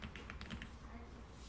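Quiet keystrokes on a computer keyboard, a quick cluster of taps followed by a pause, faint and close against a low background hum.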